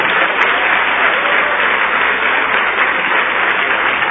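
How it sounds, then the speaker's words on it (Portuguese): Church congregation applauding together during a worship service, a steady dense wash of clapping held for the whole stretch at even loudness. "Oh glória, vamos aplaudir mais."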